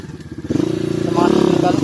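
Big enduro motorcycle on a technical trail in Palawan, its engine chugging at low revs close by, then building into a louder, steady throttle.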